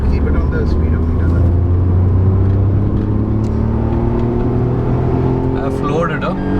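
A 2020 Tata Tiago facelift hatchback revving hard under full throttle, engine drone climbing steadily in pitch as it pulls toward about 6000 RPM, loud and close inside the cabin with a faint voice over it.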